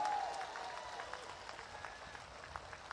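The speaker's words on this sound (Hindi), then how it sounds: "सुनीता जी के लिए ताली बजाओ जोर से एक बार।" A crowd at an election rally in Makrana, Rajasthan applauds candidate Sunita, a faint, steady wash of distant clapping lasting about three seconds with a brief tonal whistle at the start.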